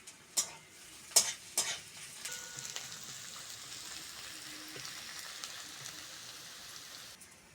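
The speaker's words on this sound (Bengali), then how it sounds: "পেঁয়াজটা ভালো করে ভেজে নিয়েছি" Chopped onions fry in a pan for a Bengali silver carp fish curry: three sharp scraping stirs at the start, then a steady crackling sizzle that settles into a soft, even hiss, close by with no voices.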